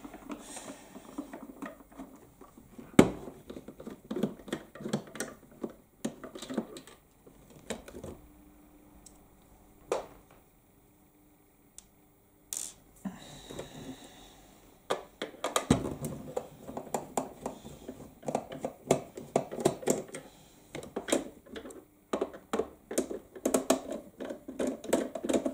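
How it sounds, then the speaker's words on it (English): Screws being worked out during an unboxing: scattered clicks, light ratcheting and handling rattles close by in irregular bursts, with a quiet stretch in the middle. "First takes the screws out."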